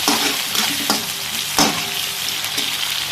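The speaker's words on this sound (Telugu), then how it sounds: "ఇప్పుడు ఇవన్నిటిని మనం ఫ్రై చేసుకుందాం" Potato curry ingredients fry and are stirred in a pan: a steady, dense close sizzle with occasional scraping stir strokes and clinks, with no voices over it.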